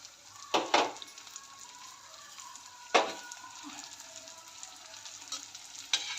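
Onion, tomato and peanuts fry in a pan with a steady sizzle, broken by a few sharp scraping stirs near the start, middle and end.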